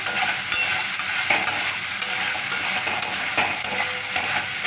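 Dahi potol, pointed gourd, frying in oil in a pan while being stirred, a loud, dense continuous sizzle with regular light spatula scrapes and taps near at hand.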